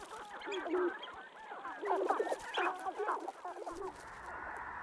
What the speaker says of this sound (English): Sharp-tailed grouse are gathering on their communal display grounds.